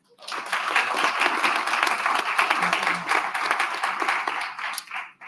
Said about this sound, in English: First, can we give a round of applause to the director of the Shelby County Health Department, Dr. Michelle Taylor.